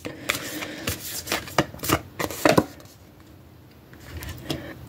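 Tarot cards are shuffled in a run of close, crisp riffling bursts over about three seconds, followed by quieter handling and near silence.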